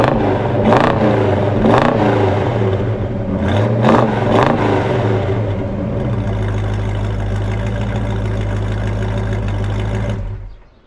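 Mopar muscle car engine, still fitted with its original Mopar radiator and fan shroud, revs hard in several sharp bursts, then settles into a loud, steady, lumpy idle before cutting off abruptly near the end.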